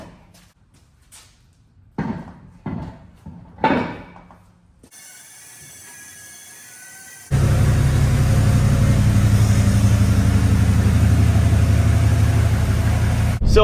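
A diesel pickup truck on a test drive after front hub and motor work: a few clunks and bumps first, then the engine sets in as a loud, steady drone with a low rumble.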